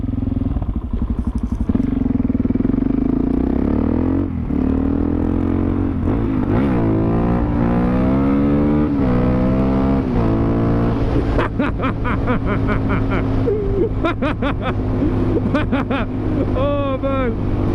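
Suzuki DRZ 400SM single-cylinder motorcycle engine while riding, loud and close, with rising and falling revs through gear changes and a steady droning note, mixed with wind rush and a voice talking over it.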